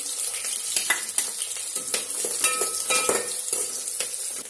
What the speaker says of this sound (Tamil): இப்ப நம்ம தாளிக்க வச்சிருக்க வெங்காயத்தையும் பச்சை மிளகாயும் போட்டுடலாம்.